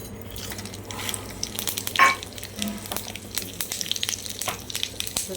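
Spices and asafoetida crackle and sizzle in hot oil for a kuzhambu tempering, a busy spatter of pops close by with one sharper burst partway through.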